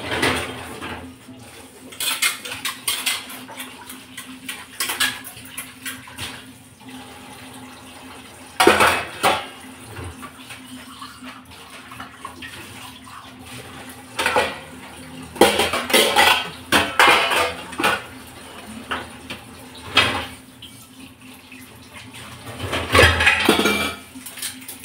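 Hand-washing of household dishes, pots and pans at home, with irregular metallic clinks, scrapes and clatters of utensils rising in bursts over a low background, fairly close.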